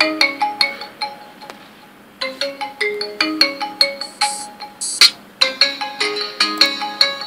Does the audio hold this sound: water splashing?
no